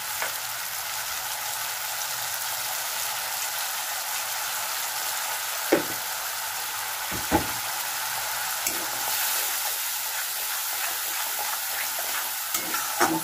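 Spice paste for katla fish curry frying in hot oil, a dense, steady sizzle and hiss lasting throughout, with a few sharp taps of a spatula on the pan, close and even, no speech.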